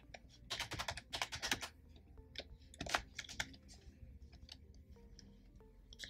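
Fast, uneven keystrokes on a computer keyboard as a password is entered into Hik-Connect, a run of crisp close-up clicks in bursts with short pauses, alone with no talking.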